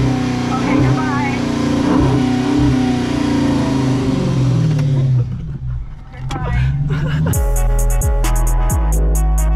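A Dodge Charger engine revs hard at a McDonald's drive-thru, loud and close, the pitch climbing and falling across several throttle blips before it settles into a rumbling idle with sharp pops and crackles.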